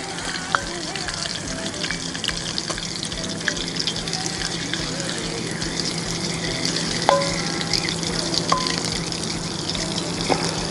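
Brown butter sizzling in a pan with a ribeye steak, a dense, steady crackling hiss close by with occasional small pops and utensil clicks, no voices heard.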